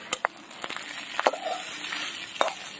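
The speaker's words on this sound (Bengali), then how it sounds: "পটকা এখনো ফাটছে।" Sharp, sparse pops and crackles from Parshe fish swim bladders frying in oil with radish greens, four or five separate bursts over a faint, steady sizzle.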